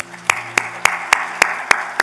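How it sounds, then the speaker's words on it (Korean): Evenly spaced, sharp claps from a church congregation ring out about three times per second in unison, each crisp and distinct over a faint background hum. "이 자리에 없지만 박수 좀 한번 쳐주세요"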